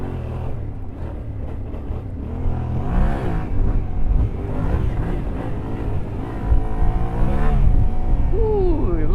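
A Yamaha Tenere World Raid adventure motorcycle churns offroad up a hillside firebreak in low gear, its engine note rising and falling unevenly with throttle bursts over heavy wind and gravelly rumble, close and continuous.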